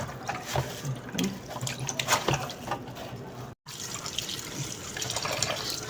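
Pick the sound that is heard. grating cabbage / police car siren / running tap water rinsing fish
running tap water rinsing fish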